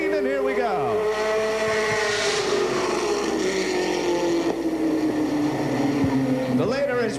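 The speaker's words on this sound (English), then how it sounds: "Cars are in the third turn, gathering speed." Stock cars accelerating at the green flag out of the third turn in a 1982 race, a loud pack of engines droning and rising in pitch, with a commentator talking over them.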